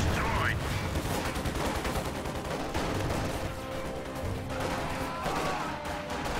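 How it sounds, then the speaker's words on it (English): Heavy machine gun fire in a World War II real-time strategy game, a dense, loud continuous rattle of gunfire mixed with battle noise and explosions throughout. "Enemy fire! Take cover! Incoming HMG fire!"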